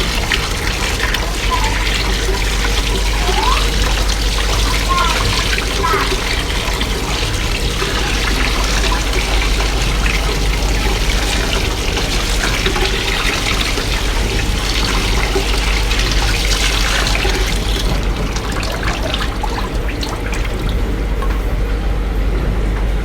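Water splashes and swirls steadily as cumin seeds are rinsed by hand in a bowl, a continuous close gushing and sloshing that fades slightly near the end.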